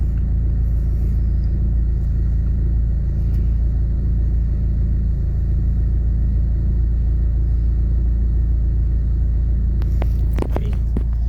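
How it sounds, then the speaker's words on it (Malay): A Mitsubishi Lancer engine idles with a deep, steady rumble close by, a low constant drone with no revving, while being checked for a faulty idle valve and cold-start problem; a few brief clicks and knocks come near the end. "Yang ini kereta Lancer CDR."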